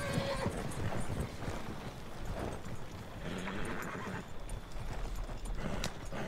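Horses pulling a coach into a barn in Red Dead Redemption II, with steady clip-clop hoofbeats and snorting whinnies over a rumbling, wind-buffeted background, sustained throughout at close range.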